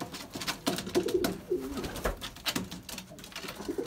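A Belgian racing pigeon at its nest box gives repeated soft, throaty coos in short rhythmic bursts, close by, with light rustling and handling noise around them.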